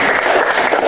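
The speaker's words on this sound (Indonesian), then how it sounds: "Tepuk tangan buat Ren." Audience applause for a presenter at the close of a classroom teaching session, a dense steady clapping that holds for the whole short moment with no break.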